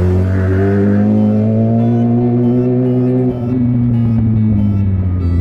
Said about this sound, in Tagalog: Galit na galit yung motor ni kuya. Dumaan lang ako, bumibirit siya.